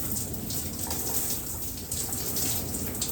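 Running water rinsing body wash off damp skin, a steady close hiss and patter that continues unbroken with no talk.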